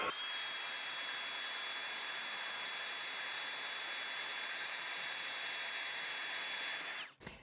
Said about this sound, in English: I'm going to, in this case, use clear embossing powder. And then we'll heat that to set.